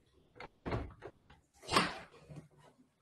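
A church door pushed open, with a few knocks and handle rattles followed by a louder creaking swing, close and heard alone.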